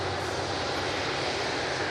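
A Boeing 787 Dreamliner heavy jet takes off, producing a steady, unbroken broadband roar that holds at an even level throughout, with no voices over it.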